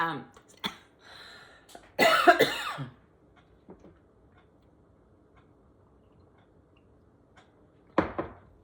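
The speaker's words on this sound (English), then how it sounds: "a little coughing fit there" A few harsh coughs close up, one long raspy burst followed by quiet and another cough near the end, with some faint speech.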